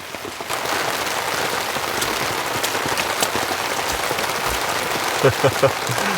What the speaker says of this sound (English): There's a little hole and the rain was very, very heavy.